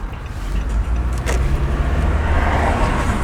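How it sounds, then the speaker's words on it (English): Inside a moving car, with a loud steady low road rumble and engine hum that continue throughout, with no talking. "recording while driving."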